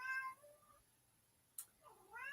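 A cat meows twice, clear and close, with rising and falling drawn-out calls separated by a quiet gap and a brief sharp click.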